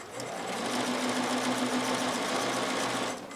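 A sewing machine runs steadily through a wide stitch on a tee shirt hem, passing over a pin, a loud continuous whirring hum lasting a few seconds with no speech.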